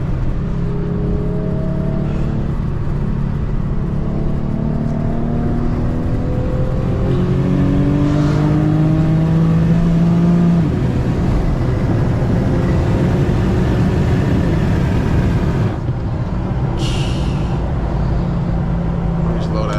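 An Infiniti G37 driven at night, its engine revving up through several rising sweeps as the car accelerates, loud and close from inside the cabin over steady road noise, with brief engine dips between pulls.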